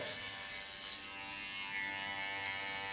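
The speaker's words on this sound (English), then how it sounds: "I put my clipper comb on the skull bone, and there it goes straight up" An electric hair clipper fitted with a comb cuts hair behind the ear, a close, steady high buzz that holds evenly for a few seconds without voices.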